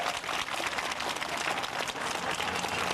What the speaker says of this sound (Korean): 박수하십시다